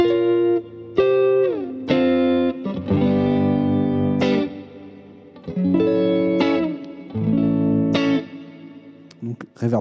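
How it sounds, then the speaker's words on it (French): Electric guitar played through the hall preset of a reverb pedal, a series of plucked notes and chords whose long, washy tails ring and decay between phrases, fairly loud and close. "Là, c'est une reverb hall."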